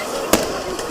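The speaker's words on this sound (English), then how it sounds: "fireworks" A single sharp firework bang at a midnight New Year street celebration cuts through a dense wash of crowd and street noise, followed by a fainter pop.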